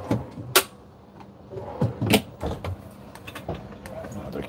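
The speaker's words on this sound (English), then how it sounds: "Drawer." A storage drawer in an RV on display at an RV show slides and clunks, giving a few sharp knocks and thumps amid quiet indoor background noise.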